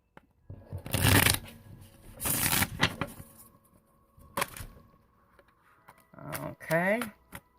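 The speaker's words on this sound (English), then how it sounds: "And you just see me shuffle again." Tarot cards being shuffled by hand in several loud, riffling bursts with pauses between, ending in a brief higher-pitched sweep.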